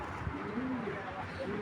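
A male racing pigeon cooing softly in a few low warbling phrases, faint and close, against a steady background hum.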